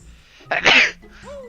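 A single sharp sneeze bursts out over quiet game music during a Banjo-Kazooie session in Mumbo's Mountain, loud and brief.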